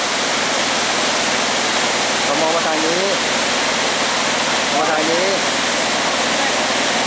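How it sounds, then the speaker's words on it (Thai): A tall waterfall pours as a loud, constant roaring hiss close by, while a person speaks briefly over it. "นี่คือทางลงน้ำตกตาเจียน น้ำตกตาเจียน"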